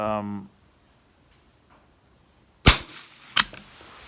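Two sharp gunshots ring out at an outdoor shooting range during match practice, each a loud close crack with a brief decay, spaced under a second apart after a moment of quiet and brief speech.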